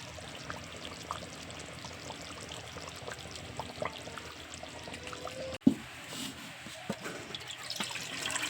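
Beef curry cooked with khoya and ghee being poured from one pot into another, a soft continuous pouring and sliding of thick liquid with a sharp clank of metal pot near the middle, close and without talk.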